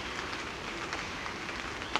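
Rain patters steadily on leaves and ground in woodland during a storm, a dense, even hiss with scattered drops and no voices.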